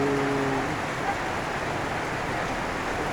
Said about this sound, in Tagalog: lakas na tulo na ulan